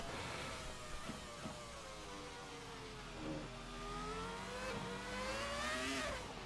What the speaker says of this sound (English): I just wanted to listen to the engine right there